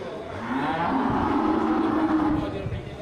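A long, low moo from a cow, sustained for a few seconds, close and fairly loud.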